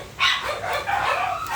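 A dog barks and yips close by in a home with many dogs, giving one sharp onset followed by a brief run of excited vocalizing.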